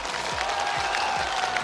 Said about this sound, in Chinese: 掌声有请刘山。